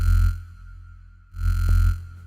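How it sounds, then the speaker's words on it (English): A wavetable synth layer using the Chrome effect plays alone with a formant-style vocal tint. Two sustained low notes repeat, each bright with added high-end shimmer, and a dip in level separates them. "Now on top of that, I'm going to add the wavetable chrome."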